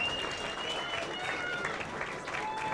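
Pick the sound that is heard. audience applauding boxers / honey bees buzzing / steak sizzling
audience applauding boxers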